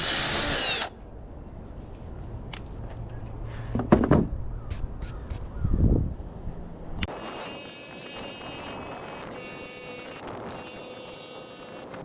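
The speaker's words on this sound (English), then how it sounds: "Going to drill a hole here to help me jigsaw the hole inside." Power drill boring a pilot hole in the front door panel of a 2019 Ford Expedition XLT: a few short close whirring bursts, then a louder broadband grinding stretch toward the end.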